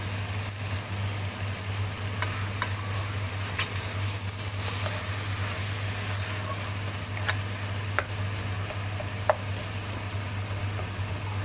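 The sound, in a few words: sautéing meat, mashing tomatoes in the pan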